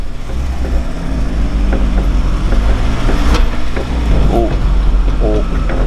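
A Volkswagen Golf 2 drives along with a steady, loud engine drone and road noise throughout, while occupants talk and exclaim over it.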